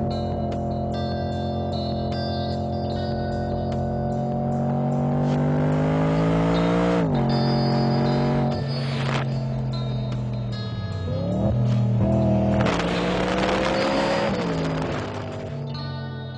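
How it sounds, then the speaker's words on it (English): VF Engineering's 620 hp wide-body BMW E92 M3 drives with a loud, steady engine note that rises and falls through gear changes, with a sharper rev surge near the end. "what do you say we drive the 620 horsepower wide-body M3?"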